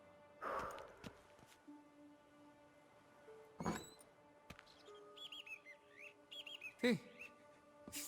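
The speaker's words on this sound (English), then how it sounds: "Breathing's loud and clear." Someone hidden inside a mansion in The Witcher 3: Blood and Wine breathes heavily, giving several sighing, gasping breaths. The breaths are fairly faint and spaced apart, mixed with scattered chirpy game sounds.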